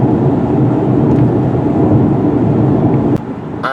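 The air conditioning in a 2017 Kia Sportage SX Turbo blows at full blast in 115-degree heat, a loud, steady broadband whoosh filling the cabin that drops slightly near the end.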